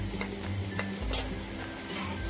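Spices being stirred into a chickpea kadha in a pan, giving soft scraping strokes over a low, steady sizzle close by, with one brighter clink partway through.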